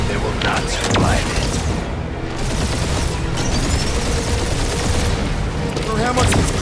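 Dense, continuous gunfire barrage in the video game Marvel's Guardians of the Galaxy, a loud, steady wash of blasts and booms with voices mixed in.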